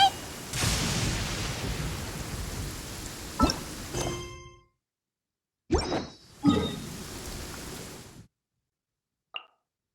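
Rain hisses steadily in the video game Genshin Impact, a broad wash of falling drops broken by a few sharp taps. It cuts out abruptly, returns briefly, then gives way to near silence with one faint click near the end.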